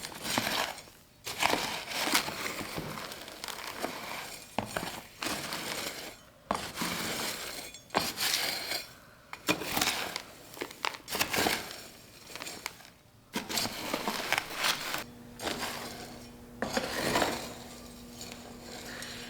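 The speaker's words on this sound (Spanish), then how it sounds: "E incorporamos los materiales hasta que quede todo distribuido uniformemente." Dry soil substrate materials for cactus propagation are stirred and mixed by hand, giving repeated gritty scraping and crunching strokes with brief pauses, close and fairly quiet.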